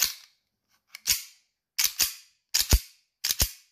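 Sharp, snappy pistol shots from a custom Glock 17 Gen3 airsoft gun, single and doubled cracks spaced about a second apart, close and dry, with no talking.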